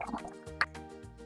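Water drips and splashes in a kitchen while vegetables are washed, giving a few soft, close plops and one sharper drip over a faint hum.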